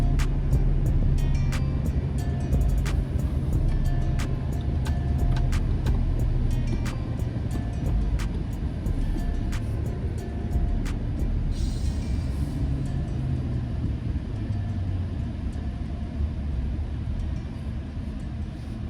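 A 2022 Nissan Frontier SV crew cab truck cruises on the freeway, its steady low engine and road rumble droning continuously from inside the cab, with faint clicks over the top.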